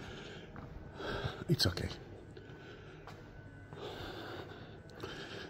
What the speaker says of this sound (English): sorry of my heavy breathing.